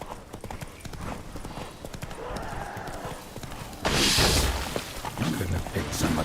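Hooves of Roach, Geralt's horse in The Witcher game, clip-clop in a steady galloping rhythm throughout, with a louder burst of hoof impacts and rustle near the end, set against game background sounds.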